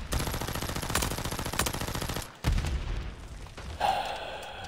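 Automatic gunfire from a heavy-recoil gun in the shooter game MW3, with loud, rapid bursts of close shots, a short pause, then further bursts and a trailing mechanical clatter.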